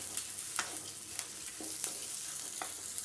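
Okra frying in a pan for a tamarind curry, with a steady soft sizzle broken by several sharp clinks and scrapes of stirring, fairly quiet and with no voices.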